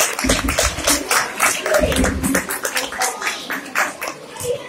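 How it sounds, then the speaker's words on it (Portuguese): A crowd at a school's end-of-year party claps in applause, with close, distinct handclaps from nearby people over a busier, uneven room with voices mixed in. "Salva de palmas, Cristina."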